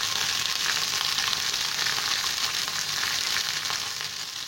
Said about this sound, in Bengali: ভেন্ডিটা আমি দিয়ে দিয়েছি তেলে। এখন এটা আমি 5 মিনিট মতো ফ্রাই করে নেব।